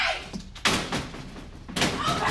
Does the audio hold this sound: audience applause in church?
no